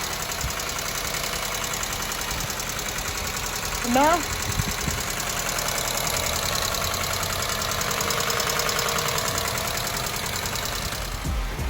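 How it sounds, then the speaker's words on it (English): Idling car engine following a cylinder head port-and-polish job, a steady low mechanical hum with faint knocking running throughout, while a person speaks briefly near the start. "after idling a couple of minutes the car became normal, sounded normal too"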